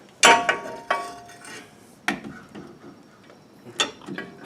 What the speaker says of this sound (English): let's try that one with the socket and an extension